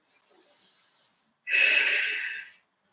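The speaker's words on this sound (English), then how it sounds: "Steady breathing." Two breaths in a yoga balance pose: a soft, airy inhale, then a louder and fuller exhale, close to the microphone with a pause between them.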